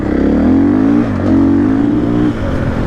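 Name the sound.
enduro motorcycles riding ahead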